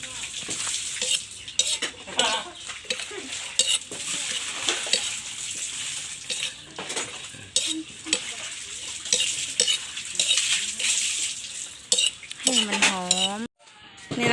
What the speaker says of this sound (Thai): คั่วไปเรื่อยๆค่ะ